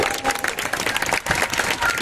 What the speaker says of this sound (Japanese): 今一度熱い拍手をお送りください。